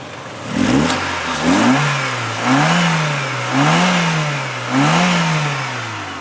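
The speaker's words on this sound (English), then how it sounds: "I'll rev it up for you. It's the 2-liter engine." A 1999 Volkswagen Jetta Wolfsburg's 2-liter engine revs up five times in a steady rhythm, each rise and fall smooth and close, with no talking.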